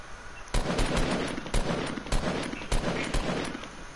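Video game gunfire in a survival shooter, rapid bursts of shots with several sharp loud cracks spaced through the stretch over a steady background rumble, no talk.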